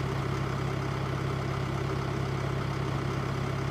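A tractor engine idles in Farming Simulator, a steady low mechanical hum with a constant drone, moderately quiet and unbroken, with no talking over it.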